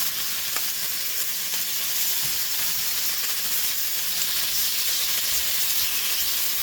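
Bacon sizzles as it fries in a pan, a steady, loud, close crackling hiss that carries on throughout with no talking.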